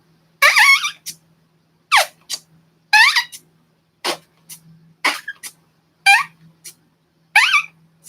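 A hand-made squeaking fart imitation, with a lubricated squeak repeated in about eight loud, short bursts at uneven intervals and brief pauses between them.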